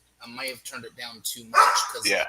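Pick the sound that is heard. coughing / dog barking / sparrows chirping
dog barking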